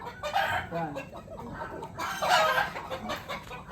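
Chickens cluck and a rooster gives a short crowing burst at close range, amid farmyard noise on a Batangas poultry farm.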